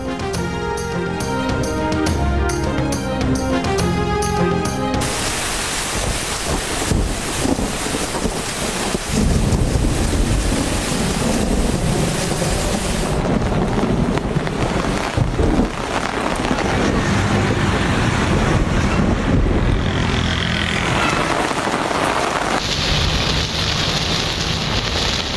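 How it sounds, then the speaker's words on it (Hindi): Heavy rain pours down loudly and continuously in Karachi, with gusty wind roaring through the downpour; a short musical passage opens before the storm takes over. "कई इलाकों में बादल जमकर बरसे।"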